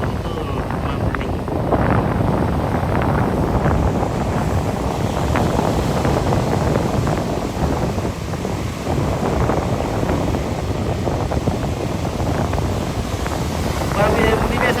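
Ocean waves at Canggu beach in Bali, a continuous loud rush of surf mixed with heavy wind buffeting the microphone, steady throughout with no clear breaks.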